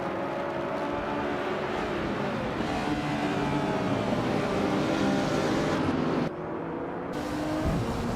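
Racing engine of a 1993 Porsche 911 Carrera RSR in a video game race, a loud continuous droning roar that holds steady for several seconds before briefly dropping and resuming, with no talk.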